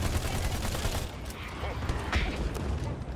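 Gunfire rattling against a sentry in the video game Battleborn, a dense, continuous spray of shots with impacts, steady and moderately loud across the whole moment over a busy battle din.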